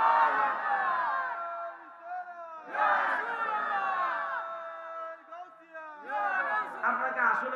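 Crowd at a religious sermon shouting takbir loudly in unison, three strong bursts of many voices rising together, each swelling and trailing off, separated by brief lulls, close and full.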